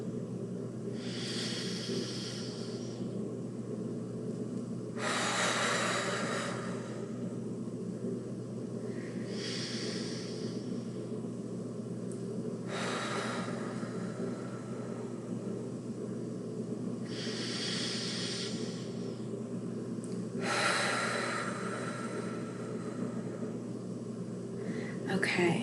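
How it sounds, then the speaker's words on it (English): Slow, deep breaths drawn in and let out during a breathing practice, airy hissing swells repeating in an unhurried rhythm over about half a minute, close and soft, with no talking. "Let's try a round of a full count of 3 breaths in and out."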